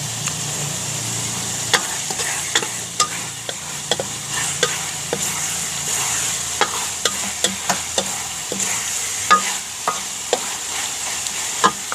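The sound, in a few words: stir-frying coconut worms outdoors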